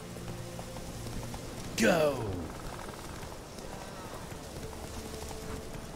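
Horse hooves clip-clop briefly at a gallop in the Witcher 3 video game, a short burst over steady game ambience, with someone shouting once.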